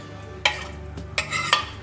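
A spoon stirs rice and water inside a pressure cooker for a vegetable biryani, making a few short, close metallic scrapes and clinks against the pot.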